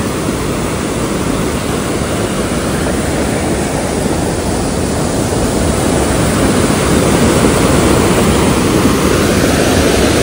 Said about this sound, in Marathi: आणि तुम्हाला आवाज येत असेल पाण्याच्या प्रेशरचा.